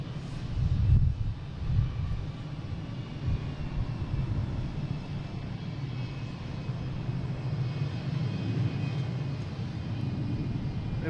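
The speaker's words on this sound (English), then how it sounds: "We have a JetBlue taking off." A JetBlue airliner takes off from Boston Logan airport with a steady, deep engine roar and some wind buffeting; a louder swell comes early, then the sound holds even.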